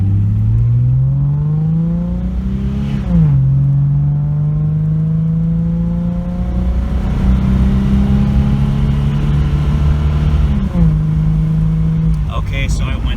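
A 1997 Ford Thunderbird V6 with a custom intake and exhaust accelerates steadily under partial throttle, its engine note rising through the gears with two distinct shift dips. It drones continuously and loudly from inside the car, with a voice speaking over it.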